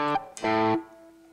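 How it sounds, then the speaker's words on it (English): Electric guitar through a crunch distortion effect on a Zoom R20 multitrack recorder, with two short gritty chord stabs and a ringing sustained tail that fades out, loud and close with no voice. "we should be able to hear our crunch distortion sound"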